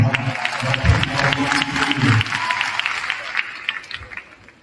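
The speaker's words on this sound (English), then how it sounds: "Give yourselves a hand." Loud applause from the crowd at Carver Middle School's eighth grade promotion, close and dense at first, with voices talking over it and the clapping slowly tapering off.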